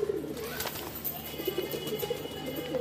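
A pigeon is handled and placed into a holder for a pigeon-flying game, giving soft, close cooing amid a busy background of rustling and other birds.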